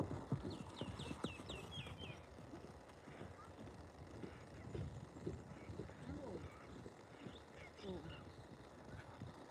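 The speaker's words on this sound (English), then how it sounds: "So she's in a really nice canter then." A pony's hooves clip-clop in a quick, rhythmic canter, faint and steady throughout the ride.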